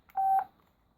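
A single short electronic beep from a 1986 NEC TR5E1000 brick mobile phone, a steady mid-pitched tone lasting a fraction of a second, then quiet.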